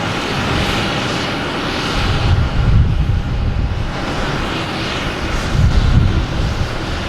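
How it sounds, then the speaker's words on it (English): An SAS Scandinavian Airlines jet taking off for Copenhagen from Boston Logan Airport produces a loud, sustained engine roar with wind buffeting. The roar swells twice as the plane climbs. "You got SAS, Scandinavian Airlines taking off, heading to Copenhagen."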